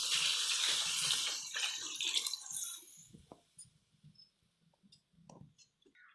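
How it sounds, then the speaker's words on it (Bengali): Spiced water poured into a pan of local chicken curry, a loud broadband rush of liquid for about three seconds that cuts off, followed by quieter sizzling and a few small clinks. "মশলার জলটা দিয়ে দিব।"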